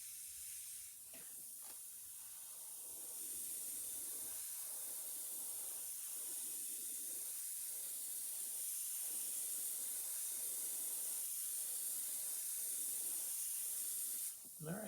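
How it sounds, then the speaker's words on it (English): Steady airy hiss of an airbrush spraying paint on a fishing lure, running continuously, with a few faint clicks and soft thumps scattered over it. "I'm going to test spray it."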